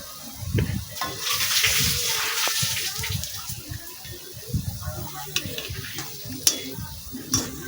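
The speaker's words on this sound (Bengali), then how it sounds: "আমার একদিক ভাজা হয়ে গিয়েছে, আমি উল্টিয়ে দিচ্ছি। দেখতে পাচ্ছেন একদম আস্তে আস্তে করে হচ্ছে পকোড়াগুলো।" Bottle gourd pakoras deep-frying in oil, a steady broadband sizzle with stirring clinks and scrapes as the fritters are turned, fairly close and moderately loud.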